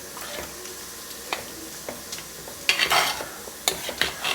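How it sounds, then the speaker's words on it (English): Pepper chicken curry is stirred in a mud pot, a spoon scraping and knocking in irregular bursts over a steady sizzle, growing louder and busier in the second half. "And then mix this well."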